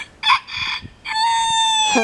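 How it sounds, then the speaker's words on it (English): Chickens and a rooster call up close: a short raspy squawk, then a longer drawn-out crowing cry, loud and clear with no talking. "Chickens. The rooster is named Flash."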